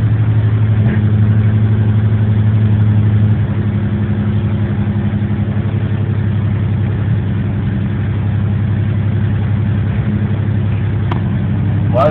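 A Willys Rural F-75 with a newly rebuilt engine idles steadily, a close, loud low rumble that settles slightly as it stabilizes, with no voices over it.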